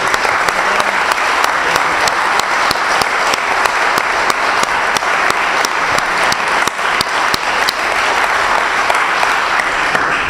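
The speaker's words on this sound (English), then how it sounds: "Well, you've all clapped, but let's give a hand to both Sami and to James." Audience at a public debate on whether Jesus was crucified applauding loudly, dense sustained clapping from a large crowd that holds steady throughout.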